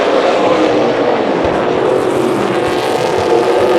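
Super Late Model race cars roaring around the Bullring oval at Las Vegas Motor Speedway, a loud continuous engine drone with passing cars swelling and fading.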